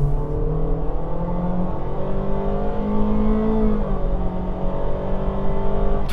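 A 2025 Honda HR-V Sport with a CVT accelerates in normal drive mode, its engine drone rising steadily and evenly from inside the cabin, with no one talking.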